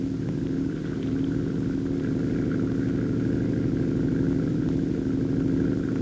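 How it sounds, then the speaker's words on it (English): A small 7-horsepower Nelson engine drives the fan of an army flying scooter hovercraft, giving a steady, loud, droning engine hum with a constant pitch, running alone throughout without changes in speed. "the left handlebar has a throttle control for a small 7-horsepower Nelson engine"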